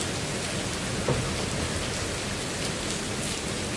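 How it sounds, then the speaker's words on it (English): Steady rain falls outdoors in the early morning, a dense, even hiss of drops on surfaces that runs throughout, with a slight bump near the middle and no voices. "It's raining."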